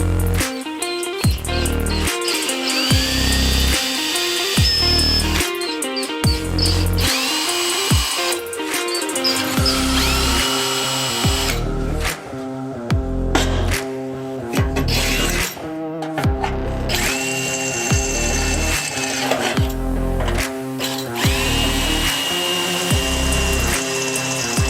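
Drilling and riveting a reinforcement plate onto a Lotus rear subframe, with sharp bursts of a power tool, ratcheting clicks and rivet-gun snaps coming in uneven runs, loud and close, with no talk.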